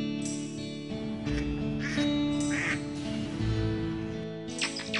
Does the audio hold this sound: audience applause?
no